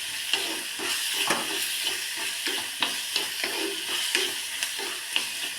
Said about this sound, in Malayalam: തക്കാളി ഉള്ളിയൊക്കെ നന്നായിട്ടൊന്ന് വഴന്ന് വരണം, വെന്ത് വരണം.